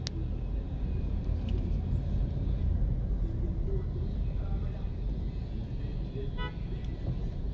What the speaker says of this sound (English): So, driving through the town of OCHO RIOS.